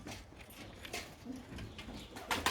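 Pigeons in a coop cooing softly, low murmuring coos repeating irregularly, faint and close, with rustling and light tapping sounds around them and a slightly louder burst at the end.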